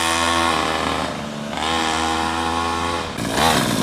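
A small mini motorbike engine revs hard as the bike rides off, a loud close buzzing drone that drops briefly and then climbs again with rising pitch.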